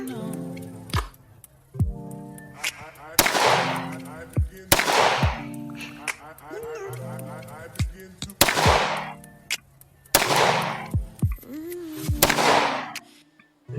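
A CZ Shadow 2 full-size steel-frame pistol fires five sharp, loud, close shots spaced a second or two apart, each ringing out briefly, with faint talk between them.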